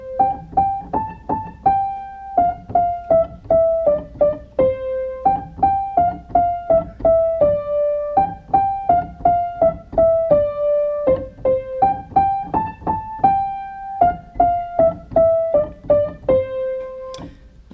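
Piano playing the Twinkle Twinkle Little Star melody as single notes, one at a time in a steady, even rhythm. Close, clear and fairly loud, with no voice over it.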